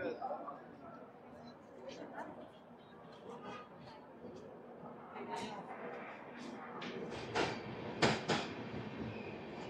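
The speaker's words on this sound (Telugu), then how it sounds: "మన ట్రైన్ ఆన్ టైం డిపార్చర్ అయితే అయిపోయింది." Express train 17221 from Kakinada Port to Mumbai LTT pulls out of Kakinada station, with a low rumble and scattered clicks and clanks of the moving carriages heard from on board, fairly faint, while a voice talks over it.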